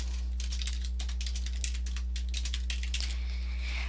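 Steady keystrokes on a computer keyboard, a quick run of clicking taps close by, alone over a low steady hum.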